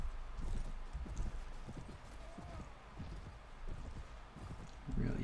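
Horse hooves clip-clop steadily at a walking pace in the video game Mount & Blade: Warband, a close, regular rhythm of thuds with a brief whinny-like tone partway through.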